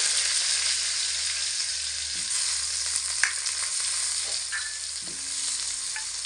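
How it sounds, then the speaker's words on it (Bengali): Cut, washed potato pieces sizzle steadily in hot oil in a pan with bay leaf, a loud continuous frying hiss broken by occasional stirring clinks and scrapes. "এবার কেটে ধুয়ে রাখা আলুর পিসগুলোকে তেলের মধ্যে ছেড়ে দেব।"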